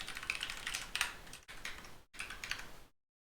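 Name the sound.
typing on a computer keyboard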